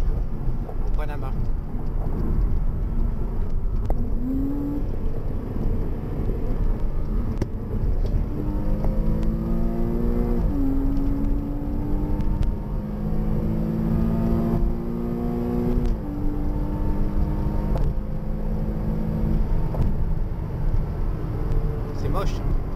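A Porsche driven on roads in Panama, its engine pulling through the gears in repeated rising sweeps and steady cruising hum, heard from close by over constant road and wind noise.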